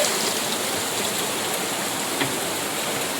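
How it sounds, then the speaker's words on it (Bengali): Heavy monsoon rain pours down in a steady, dense hiss in the Sundarbans, loud and unbroken throughout with no voices. "এত ঝমঝম করে বৃষ্টি হচ্ছে"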